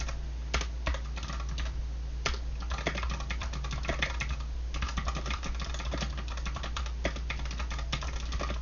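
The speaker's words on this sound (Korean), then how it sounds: "한글도 한번 끝까지 입력을 해볼게요" Steady typing on a computer keyboard entering Korean text in a PowerPoint slide, with quick irregular key clicks close up over a low constant hum, no voices.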